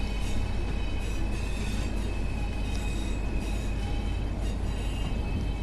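A Pacer diesel railbus in Train Sim World 4 runs steadily on the Saltburn to Darlington line, with a continuous engine drone and rolling wheel noise, loud and unbroken with no talk.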